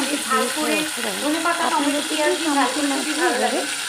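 Chopped onion frying in a pan for a South Indian style fish curry, a steady broadband sizzle with scraping stir sounds, heard under continuous close-up talking throughout.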